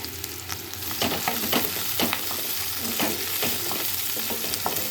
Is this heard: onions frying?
yes